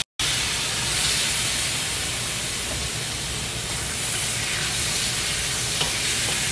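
Pieces of meat sizzle over high heat in a pan with browned onion and bell pepper, a dense, steady, hissing fry that starts right after a split-second of silence and stays loud and close.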